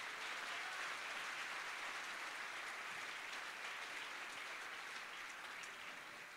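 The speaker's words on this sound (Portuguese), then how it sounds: "Então dê um aplauso ao Rei da Glória" Congregation applauding at a church worship seminar, a dense, even wash of many hands clapping continuously at moderate distance, with no speech over it.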